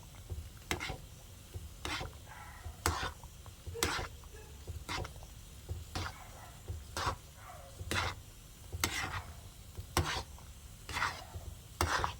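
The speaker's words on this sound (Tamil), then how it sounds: "நல்லா கிளறி விட்டுக்கோங்க" Rava kesari is stirred in a pan, a spoon scraping and knocking against the metal in a regular rhythm of sharp strikes about once a second over a soft sizzle, close up.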